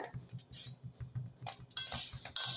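Wheat grains dry-roasting in a pan over low heat, giving a series of small sharp pops and crackles with brief louder clusters, close and fairly faint.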